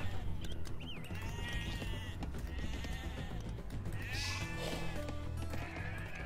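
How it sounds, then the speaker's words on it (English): Sheep bleating in the video game Age of Empires 2: Definitive Edition, several wavering bleats repeating over a steady game soundscape with no talk. "let's bring the sheep home"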